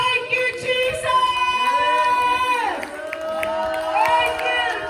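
A church congregation at a Filipino worship service shouts praise and cheers to the Lord, a dense crowd roar running steadily under sustained, ringing musical tones throughout.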